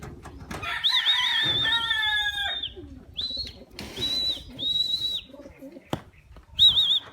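Pigeons in a loft, apparently racing birds, make close, loud calls and chirps in repeated bursts throughout, with a rustling, busy background and no voices.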